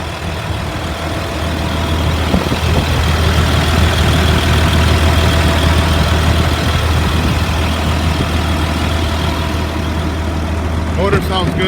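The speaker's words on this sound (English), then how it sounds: "Motor sounds good." A 2004 Blue Bird 72-passenger school bus idles with a steady, loud, low diesel rumble that fills the whole stretch. A faint voice can be heard beneath the engine noise.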